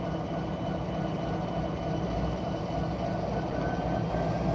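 A southbound Norfolk Southern train rolls past, a dense continuous rumble and grinding roar of wheels and cars holding steady and loud throughout, with no talk.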